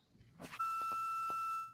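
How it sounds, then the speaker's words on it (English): An electronic beep, a steady high tone, rings on a phone call for about a second after a few soft clicks and knocks, then fades out. "Oh, somebody's beeping."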